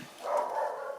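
A single dog bark or yelp from dogs in a house, a brief moderately loud burst lasting under a second with no talking.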